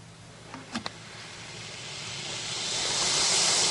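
An alligator near its nest gives a breathy, steady hiss that swells gradually louder over a few seconds, with a couple of faint knocks early on.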